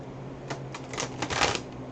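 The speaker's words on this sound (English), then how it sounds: "now we're going to shuffle these one more time" A deck of tarot cards is shuffled nearby in quick soft riffling bursts, faint and alone.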